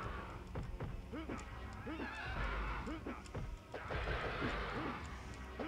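A horse man enemy in the Mortal Kombat Trilogy video game: repeated loud whinnies and neighs over clip-clopping hooves and thudding fight hits, with a person talking in between.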